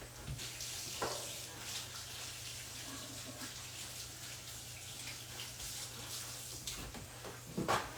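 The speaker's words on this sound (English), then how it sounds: "I'm washing hands." Hands being washed under a running kitchen tap while cooking, a steady broadband water rush that continues throughout, with a low hum beneath and a few brief knocks and splashes near the start and end.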